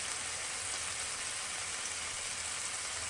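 Corned beef browns in a hot pan with a steady, even hiss of sizzling fat, heard close and continuous at a moderate level with no voices.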